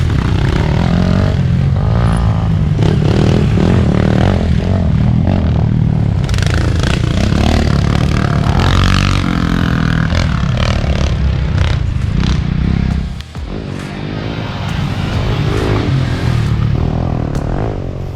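An enduro dirt bike rides an off-road race track with jumps and obstacles at BigRock Dirt Park, its engine a loud, continuous close roar that briefly drops around two-thirds through before surging again.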